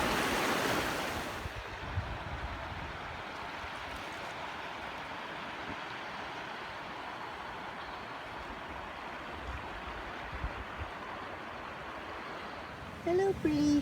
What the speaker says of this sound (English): We got a nice little river crossing here.